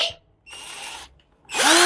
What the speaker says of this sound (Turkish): arkadaşlar bu matkap bu, bu matkapın e, siparişi daha dün geldi